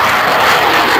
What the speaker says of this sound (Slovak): prvé súčko na pristátie